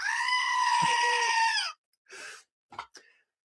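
A loud goat sound effect from a livestream super chat alert gives one long, wavering bleat, followed by a few shorter, fainter bleats and snorts with gaps of silence between them.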